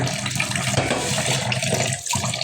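Fish being washed under running tap water, a steady close splashing and rushing stream that continues without pause, with only a brief dip near the end.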